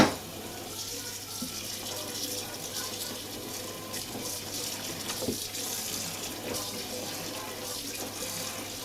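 Fumbwa leaves are washed under a steady stream of running tap water in a kitchen sink, a quiet continuous splash with faint handling noises throughout.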